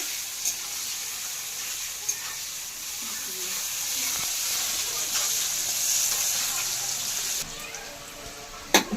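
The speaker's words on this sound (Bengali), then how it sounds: "লাল লাল করে একটু ভেজে নেব" Onions fry in hot oil in a pan, a continuous close sizzle with a few sharp clinks of a utensil and a brief pause near the end.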